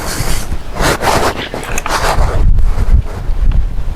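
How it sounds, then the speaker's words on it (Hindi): Wind blowing hard outdoors, buffeting the microphone in loud, uneven gusts with deep rumbling bursts throughout, and no speech heard. "हवा"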